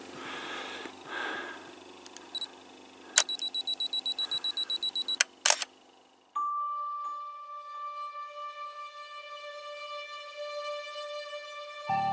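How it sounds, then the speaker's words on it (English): A Canon 5D classic camera sounds a short series of rapid electronic autofocus confirmation beeps, close and clear, followed by a brief mechanical click and a sustained tonal hum outdoors at a quarry at sunset. "I still use my beeper and on my autofocus"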